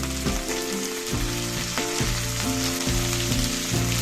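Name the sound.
cauliflower pieces frying in oil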